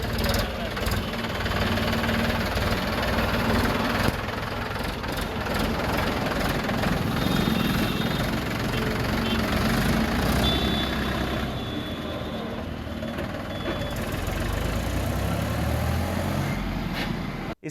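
A tractor engine idles with a low, steady rumble under a busy outdoor mix, with a beeping tone and people talking nearby throughout.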